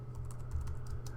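Fingers type on a computer keyboard while writing a blog post, a quiet run of rapid, close key clicks with no voices.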